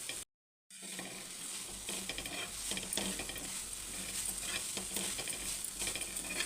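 Finely chopped onions, coriander and green chilies fry lightly on a pan, giving a steady close sizzle with scraping and stirring clicks after a brief silent gap at the start.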